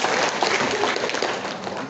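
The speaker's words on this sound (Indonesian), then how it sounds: "Tepuk tangan untuk kita semua dulu." An audience at a regional women's organisations assembly in Merauke gives a brief, dense round of applause, steady and fairly loud from a crowd.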